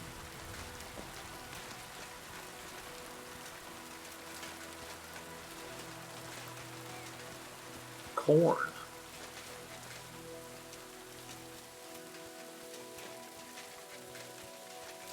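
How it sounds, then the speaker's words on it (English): Steady rain patters continuously across the whole stretch in the video game Kingdom Come: Deliverance II, with a brief louder knock or thump partway through and a short spoken word. "Sounds like the storm's passed, but it's definitely raining."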